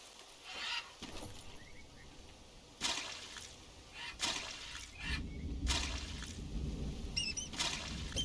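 Water poured from a container into a small planter outdoors, soft trickling and splashing in uneven bursts with handling noises between them, fairly faint.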